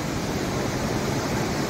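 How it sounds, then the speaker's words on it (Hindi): Rakhikol waterfall pours in a steady, dense roar of rushing water, loud and close, unbroken for the whole stretch with no voices over it. "ये देखो भाई ये है शानदार व्यू घोघरा के, और तीसरे झरने का देख रहे हो"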